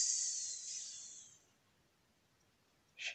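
A soft breath sound drifts out at the start of a guided Taoist meditation, fading over about a second and a half into near silence, then a short faint puff close by near the end.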